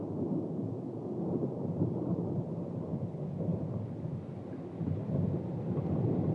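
A thunderstorm over a forested tropical island near Truk Lagoon: a dense, steady wash of heavy rain with a deep rumbling undertone, continuous and fairly loud throughout.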